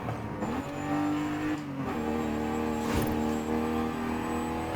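Race car engine in Forza Horizon 5, loud and close, revving high and shifting through gears with sustained whine and brief dips between shifts, a faint tire squeal mixed in.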